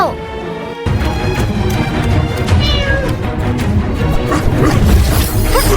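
Cat meowing in a fantasy dragon-slayer video game, loud and up front over busy game music and effects, with occasional talk mixed in.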